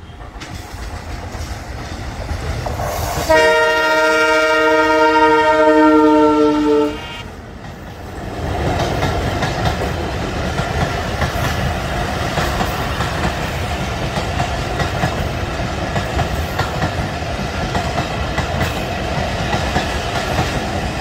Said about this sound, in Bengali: জগৎ থেকে ট্রেনের বিরতি নাই, যার কারণে ট্রেনটা জগতিতে থামায় না